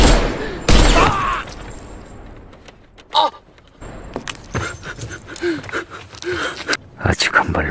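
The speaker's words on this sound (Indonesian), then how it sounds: "Tae-sik segera menembak satu titik yang membuatnya tewas seketika." Gunshots ring out in a tense film scene, a few sharp isolated bangs spread across the moment, mixed with dialogue and background action sounds.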